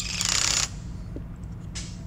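Trailer hitch bracket nuts being tightened on a 2021-2023 Toyota Sienna: a short, loud mechanical whir from a hand tool lasting about half a second, then a quiet pause and a fainter brief burst near the end.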